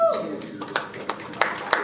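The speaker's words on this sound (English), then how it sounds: "The smattering of applause." A sparse smattering of audience claps at a CONvergence 2025 convention panel, a few isolated hand claps spaced out over a couple of seconds, with some talk and a chuckle underneath.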